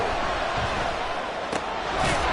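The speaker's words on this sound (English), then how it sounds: "This crowd doing their best to make a lot of racket" Stadium crowd roaring steadily in an American football video game featuring the Dolphins, a dense, loud wash of cheering that swells slightly near the end of the short stretch.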